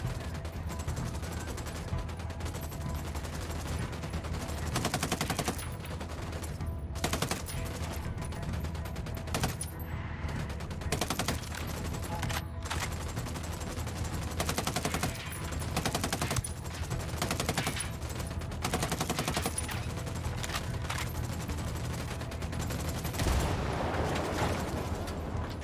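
Sustained video game gunfire in Ghost Recon Wildlands during a rebel fight to defend a radio: continuous overlapping rifle and machine-gun bursts, loud and relentless for the whole stretch, with occasional heavier booms mixed in.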